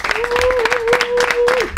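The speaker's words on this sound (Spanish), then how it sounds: "Fuerte aplauso para Óscar Antares" Studio audience applause on a Spanish radio comedy show greeting a guest psychic, dense clapping under a sustained musical tone from a jingle, steady and fairly loud throughout.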